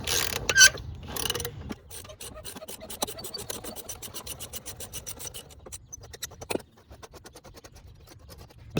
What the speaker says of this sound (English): as we loosen our nut here, this clamp is going to release and then we can pull the head off the filter